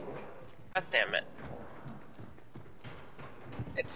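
Horse hooves clip-clopping in the video game Hunt: Showdown, a few quick hoofbeats heard faintly amid game sounds, with a voice speaking over them.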